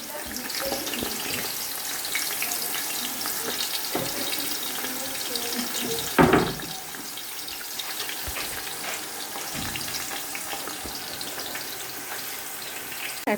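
Onions sizzle in a pan in a home kitchen, a steady hissing fry with one louder clatter partway through and soft background voices.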